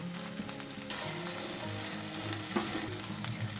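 Finely chopped tomato hits a spiced masala already roasting in oil for a drumstick curry, giving a steady close sizzle with stirring scrapes and a sharper burst near the start.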